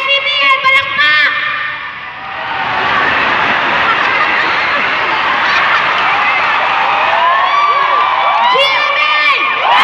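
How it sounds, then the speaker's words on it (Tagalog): A studio crowd at a live ABS-CBN versus GMA warm-up cheers, whoops and shouts in a loud sustained roar, with children's shrieks and a host's amplified voice heard at the start and end. "Tatanungin ko, mga taga ABS-CBN, palakpak!"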